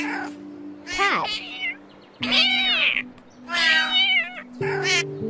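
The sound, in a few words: cat meowing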